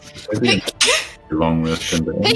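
A single abrupt sneeze bursts out amid people talking in a lively conversation, sharp and loud against the voices.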